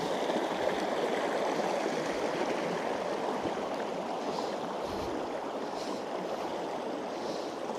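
Rainwater rushing into the Sangjoy Luman dam after a night of heavy rain, a steady broadband roar of flowing water that stays loud and continuous throughout with no talking.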